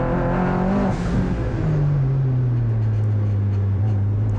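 A turbocharged Mazda MX-5 accelerates hard onto the straight of a wet race track, its engine droning loud and close and climbing steadily in pitch as it pulls through the revs.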